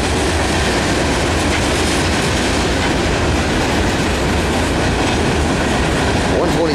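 Loud, continuous roar of a long Norfolk Southern manifest freight train with AC44 and SD70ACu locomotives rolling past close by near Shawsville, with rumbling wheels and faint clatter throughout.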